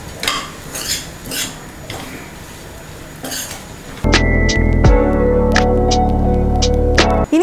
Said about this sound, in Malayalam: ഇനി നമുക്കിതിലേക്ക് ഫ്രൈ ചെയ്ത് വെച്ചിരിക്കുന്ന മീൻ ചേർത്ത് കൊടുക്കാം. നന്നായിട്ടൊന്ന് മിക്സ് ചെയ്ത് കൊടുക്കാമേ.